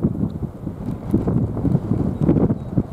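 Wind buffets the microphone outdoors at a farm with sheep, goats and horses, a loud steady rumble with gusty swells through the whole stretch and no voices.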